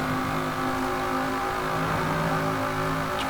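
A 1965 Pontiac GTO with an American V10 engine swap in Forza Horizon 4, holding a loud, steady, harmonic engine drone at high revs throughout, close and alone without talk.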